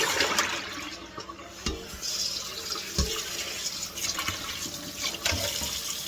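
Starchy rinse water from washed-flour seitan dough is poured away into a sink, a running, gurgling splash with a few knocks and drips, no voices.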